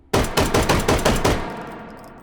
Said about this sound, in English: we'll just fire off a 1911 to celebrate, anyway